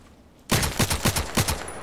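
Gunfire in the online shooter Contract Wars: a rapid burst of roughly six sharp, loud shots in quick rhythm, following a quiet moment, with no voices over it.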